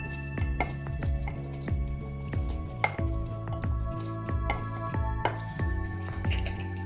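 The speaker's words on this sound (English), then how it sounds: "we're going to again muddle those together" Lime and demerara sugar being muddled for a caipirinha, with repeated knocking, clinking and grinding strikes of a muddler against a glass, close and fairly loud with a steady irregular rhythm and no talk.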